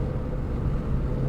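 Steady low engine rumble and road noise from a Ford Mustang crawling through heavy 5 o'clock street traffic, continuous and fairly loud from inside the car, with no voices.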